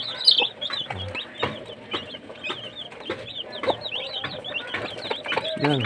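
Chickens and chicks cluck repeatedly in quick, irregular bursts nearby, with high chirps mixed in and a faint low murmur beneath.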